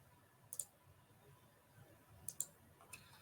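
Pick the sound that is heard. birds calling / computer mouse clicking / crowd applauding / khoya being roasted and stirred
computer mouse clicking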